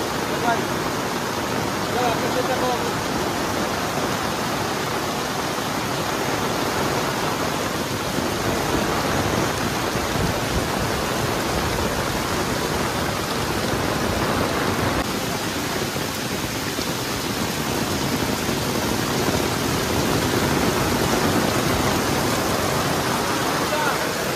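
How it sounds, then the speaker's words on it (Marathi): Heavy monsoon rain in the Konkan countryside pours down as a dense, steady broadband roar, unbroken and loud throughout with no gaps or lulls. "मित्रांनो पाऊस बघा खतरनाक एक नंबर."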